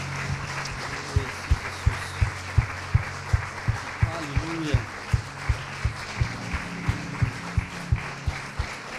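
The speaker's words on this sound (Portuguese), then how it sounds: "Dá uma salva de palmas aí." A congregation claps during a Sunday church service, a steady rhythmic clapping in time, fairly close, with faint murmuring voices beneath.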